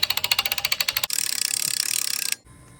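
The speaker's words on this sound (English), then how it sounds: "now all we got to do is wind this winch up" A jet ski trailer winch cranked to wind in its strap, giving a fast run of regular ratcheting clicks followed by a denser, smoother whirring rattle, close and loud, then stopping.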